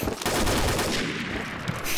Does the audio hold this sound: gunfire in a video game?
yes